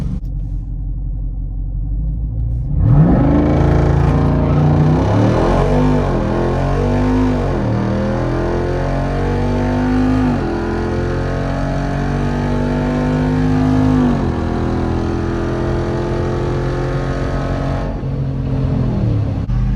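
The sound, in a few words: Jeep and Mustang drag racing launch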